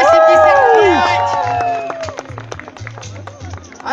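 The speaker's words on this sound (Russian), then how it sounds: "Под аплодисменты" Spectators at a Kharkiv half marathon finish line clap for an arriving runner, a scattered patter of applause under a loud announcer voice and music, with crowd babble in the background.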